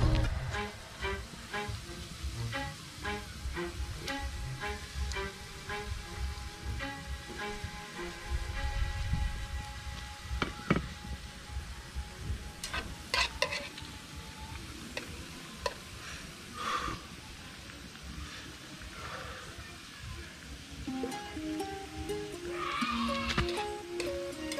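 Plantains crackling and spattering in hot oil in a frying pan, a dense continuous sizzle with occasional louder pops and clatters as pieces are lifted out and turned.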